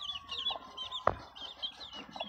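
Aseel chickens clucking close by in soft repeated calls, with bird chirps around them and one sharp knock partway through.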